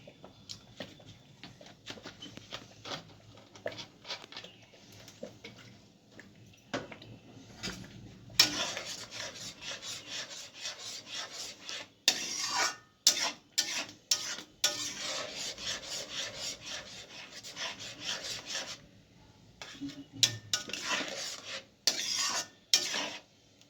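A utensil scrapes and stirs mango pulp cooking in a pan for papad, producing continuous close rasping and scraping strokes with occasional sharper knocks against the pot.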